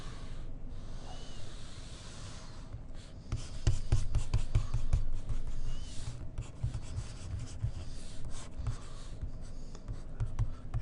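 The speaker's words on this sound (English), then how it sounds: "let me draw you one more of these diagrams" Pen or marker drawing a physics diagram for a lecture on impulse and Newton's second law, heard as steady close scratching and rubbing strokes with quick taps, continuing alone with no talk.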